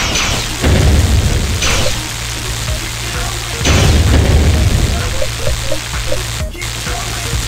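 Super weapon explosions from the PC game Thrillville: Off the Rails, with two loud booming blasts that each settle into a rumbling tail, plus small popping bursts and a sharp crack near the end.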